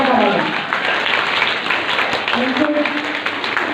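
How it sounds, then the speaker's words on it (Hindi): An audience at a children's patriotic performance event gives loud, sustained applause for a performer, a steady wash of clapping with crowd noise and voices mixed in throughout. "इनके लिए जोरदार ताली"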